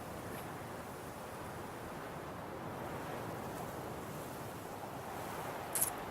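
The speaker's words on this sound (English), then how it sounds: "Sounds like it's a bit windy." Steady wind blowing through an outdoor scene in The Witcher 3, a continuous broad rushing wash at even level, with a brief brighter gust near the end.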